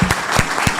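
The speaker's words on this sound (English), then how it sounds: "ask for another round of applause" An audience applauds after a talk on U.S.-Europe relations, with steady, dense clapping from a large crowd and a few louder nearby claps standing out.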